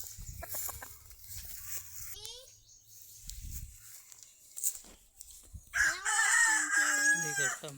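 A rooster crows loudly in the latter part, its drawn-out call rising and falling after earlier clucking and scattered background chatter, with voices talking nearby at the start.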